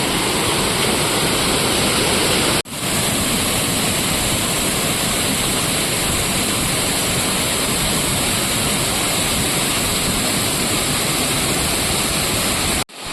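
The Rani Duduma waterfall in Odisha roars steadily and loudly as a dense, unbroken rush of falling water, with one brief dropout near the start.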